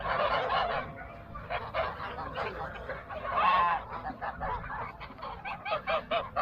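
A flock of geese honking close by, with overlapping nasal calls rising and falling in irregular bursts and no talking, on a farm where they are kept alongside Akbaş livestock guardian dogs.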